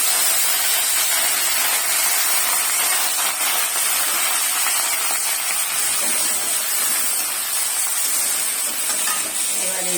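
Chopped onions hit hot oil with cumin seeds, giving a dense, continuous loud sizzle and hiss that holds steady close by for the whole stretch, with no talking over it.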